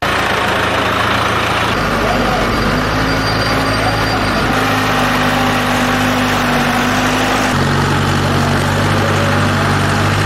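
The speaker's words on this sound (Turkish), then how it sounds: "Tarlaya girdi ve traktörle çift sürdü." A tractor ploughing a farm field in Samsun, Turkey, drones with a steady, loud engine rumble throughout, shifting pitch a few times as the load changes.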